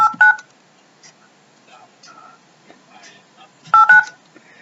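Two short clusters of telephone keypad tones, one at the start and one near the end, punctuate a phone number being dialed, with faint whispering and quiet voices in between.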